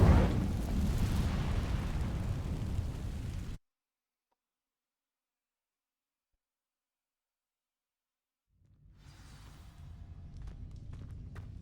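An Incendio fire spell cast on dry vines in Hogwarts Legacy gives a loud crackling whoosh of flame that cuts off abruptly, followed by silence and then faint rustling movement.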